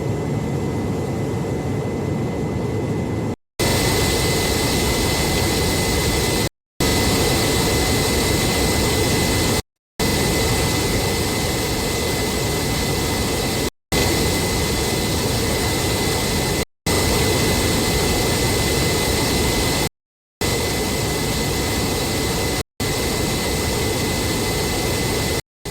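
Jet airliner engines roar loudly and steadily before takeoff, a broad continuous whine and rumble heard in several segments separated by brief silent cuts.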